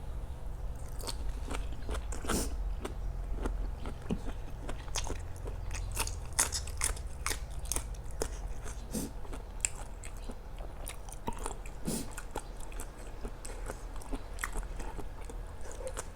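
Close-up crunching and chewing of a crisp spicy Thai salad with snails, a steady series of sharp bites and crackles with no talking.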